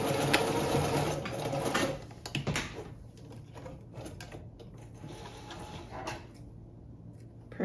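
A vintage sewing machine stitches a zigzag pattern, its needle mechanism running in a steady rapid clatter with a few short pauses and restarts, close and clear with no voices.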